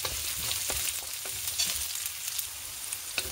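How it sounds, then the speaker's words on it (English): Garlic and onion frying in a hot pan for lomi, a steady close sizzle with occasional stirring ticks and scrapes, and no talking. "Uga yung aking ano, kawali. Lagay natin ng garlic."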